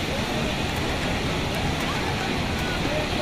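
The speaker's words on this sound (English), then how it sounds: "This is the surrounding area of Bata waterfalls." Water rushes steadily at Bhatta waterfalls near Mussoorie, a constant broadband roar that fills the scene without pause at an even loudness.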